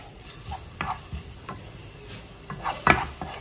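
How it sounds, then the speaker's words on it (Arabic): Vegetables sautéing in a little olive or table oil with garlic, a soft sizzle broken by utensil scrapes and clinks against the pan, louder stirring near the end. "انا غادي نشحرهم، ما غاديش نطيبهم في الماء"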